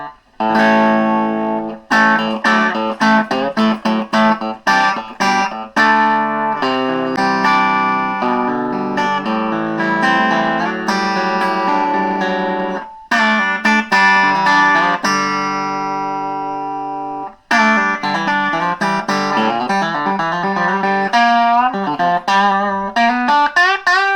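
An electric guitar plays chords and riffs through a vintage 5-watt tube amplifier with a single volume control, cranked into distortion, loud and close, with brief pauses between phrases.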